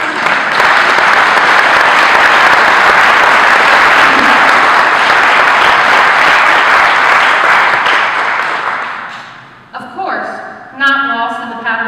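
Loud, sustained clapping from a large graduation ceremony audience for a senior class, fading out near the end before a voice begins speaking.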